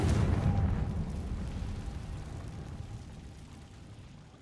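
A Confringo explosive spell blast from the video game Hogwarts Legacy erupts as one deep, booming burst at the start, then rumbles and fades away over several seconds.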